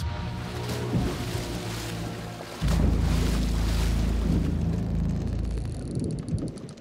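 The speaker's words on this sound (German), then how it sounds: "ich höre ihn ins Wasser steigen" Heavy water sloshing and splashing starts abruptly partway through, a loud close churn like someone wading in, over a rumbling background.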